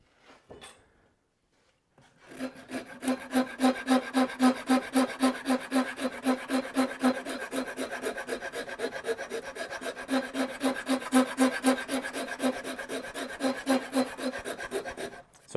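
A hand rasp files the shoulder of a wooden axe handle for a Plumb rafter axe, flattening it into a taper. After a brief quiet start, fast rhythmic rasping strokes run continuously and close up, steady and fairly loud to the end.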